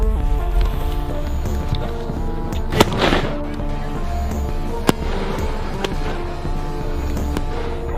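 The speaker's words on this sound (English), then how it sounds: "Oh, it's fireworks." Fireworks go off outdoors, with sharp cracks and pops over a rumbling, noisy background.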